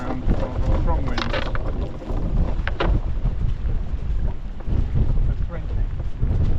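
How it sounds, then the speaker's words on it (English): Strong squall wind buffets the microphone on a boat anchoring at East Head, making a continuous roaring rumble with gusty surges throughout, with some clanking and a voice faintly mixed in. "so I've got a strong wind"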